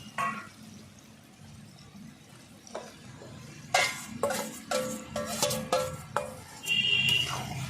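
Chicken with spices stirred and fried in a pan for curry, quiet at first, then sharper sizzling bursts and spoon scrapes, moderately close, no talk.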